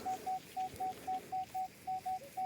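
A Minelab Equinox metal detector sounds a steady train of about ten short, evenly spaced beeps at one pitch over faint outdoor background noise, with no talking.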